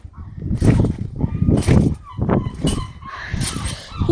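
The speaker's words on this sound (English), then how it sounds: "seagulls over there, seagulls over there, seagulls up there, seagulls up there" Seagulls call repeatedly near a backyard trampoline in bursts of harsh, honking cries, loud and close, with short gaps between calls.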